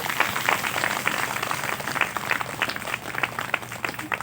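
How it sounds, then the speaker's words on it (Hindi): A room full of people claps together in steady, continuous applause at moderate loudness during a church sermon. "सब ताली बजाएंगे यीशु मसीह के लिए।"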